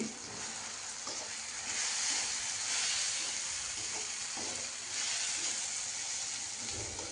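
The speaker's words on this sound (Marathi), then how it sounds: "आता जाणार आहे शेंगदाणा, मिरची, लसणाची पेस्ट मिक्सर म्हणून काढलेली।" Coarse peanut, green chili and garlic paste fries in a pan for Maharashtrian okra bhaji, giving a steady, fairly loud sizzle and hiss with faint stirring scrapes throughout.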